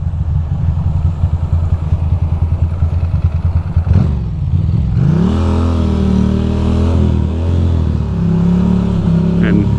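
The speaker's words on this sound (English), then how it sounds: "Here we are on the motorcycle." Ducati Hooligan motorcycle ridden on bumpy Manhattan city streets: a loud, close engine burbles and pulses, then revs up with rising pitch as it accelerates, with a voice heard over the engine.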